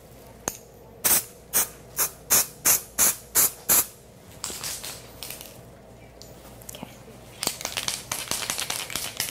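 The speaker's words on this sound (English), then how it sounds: "This is the new Bark Art Pet Ink Spray." Bursts of aerosol pet ink spraying: about nine short, evenly spaced hissing puffs, then longer and more irregular sprays with a faint rattle, close and loud.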